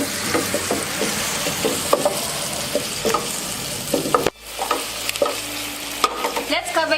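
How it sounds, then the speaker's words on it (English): Tomatoes and spices for an Indian dish are stirred in a cooking pan, with a steady sizzle and repeated spoon scrapes and knocks against the pan. The sizzle briefly drops out partway through, then resumes under continued stirring, close and fairly loud. "I'm going to mix my tomatoes with spices. I stir so they can cook properly all in."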